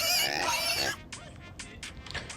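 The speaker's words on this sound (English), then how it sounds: "Oh, look at the beautiful piglets." Pigs and piglets squeal and oink, loud and high at first and then in short scattered grunts, with some voice mixed in.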